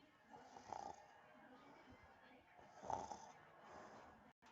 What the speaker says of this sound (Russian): Ну вот сколько можно храпеть?